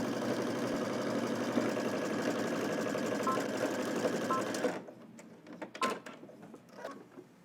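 A sewing machine runs a continuous stitching burst along a jacket seam, steady mechanical whirring that cuts off abruptly, followed by a few scattered handling clicks and rustles.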